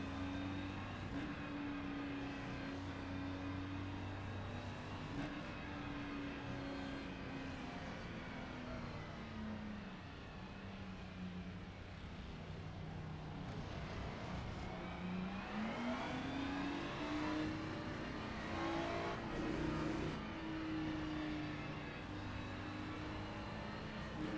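Ferrari 296 GT3 racing car in a video game at Zolder, its engine droning steadily and close throughout, pitch rising and falling with gear changes and revs, a sustained loud whine with no talk.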